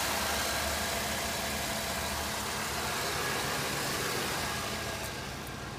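A plain Chevy engine in a Roadmaster wagon idles steadily, a loud, constant low rumble heard up close with no speech over it.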